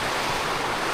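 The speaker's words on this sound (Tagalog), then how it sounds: "Talaga malakas ang ulan mga kabasot." Heavy rain pours down in a dense, steady hiss that fills the whole moment, loud and unbroken, with no voices.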